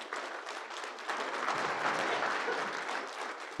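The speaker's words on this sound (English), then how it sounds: "Let's give him a big round of applause." An audience in a Kansas Supreme Court courtroom session in Great Bend gives a full round of steady, dense applause that builds slightly and carries on without speech.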